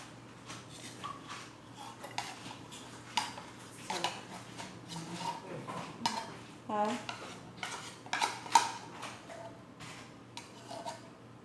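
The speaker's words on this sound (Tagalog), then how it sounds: "Nailagay ko na lahat ang ating 1 cup condensed milk. Haluin natin siya ng buti." A utensil stirring condensed milk into a Milo leche flan mixture in a bowl, giving steady scraping and clinking of metal against the dish, close up and continuous for several seconds with no speech.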